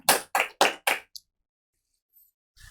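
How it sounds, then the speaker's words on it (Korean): Several bursts of congregational applause welcome a new member at a Sunday church service: four loud, evenly spaced rounds of clapping, then a short tap and near silence, with a faint murmur at the end. "박수로 한번 격려해 주시고 앞으로 좋은 또 믿음의 성도로 이렇게 세워질 수 있도록 해 주시기 바랍니다"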